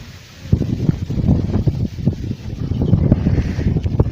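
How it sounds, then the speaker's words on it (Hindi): Strong wind gusting outdoors in a village yard, buffeting the microphone with continuous low rumbling roar and repeated bursts, fairly loud throughout with no voices. "आज मेरे यहाँ जो हवा है बहुत तेज़ी से चल रही है।"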